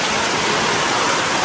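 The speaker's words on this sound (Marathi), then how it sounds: "जोर घेतलाय भाई पावसाने जोर घेतलाय" Heavy monsoon rain pours down at a house in the Konkan region, a loud, dense and unbroken roar of water hitting surfaces close by, with no voices.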